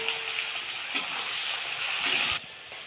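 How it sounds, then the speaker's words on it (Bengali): Onion and green chili fry in a pan with a steady, bright hiss of sizzling oil that holds level for most of the moment, then drops off slightly. "পেঁয়াজ আর লঙ্কা একসাথে আমি ভেজে নেবো।"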